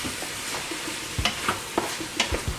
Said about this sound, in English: now we're gonna go ahead and add in our butter. Let that melt with everything